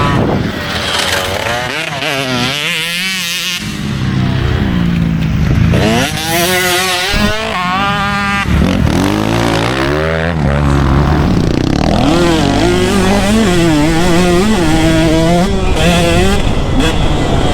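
A KTM 150SX motocross motorcycle rides a practice track, its two-stroke engine loud and close as it revs up and down through repeated rising and falling pitch sweeps.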